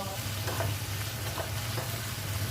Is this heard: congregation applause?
no